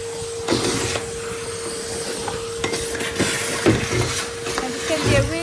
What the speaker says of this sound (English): I'm just going to do a really quick vacuum inside the cupboard where the bits dropped.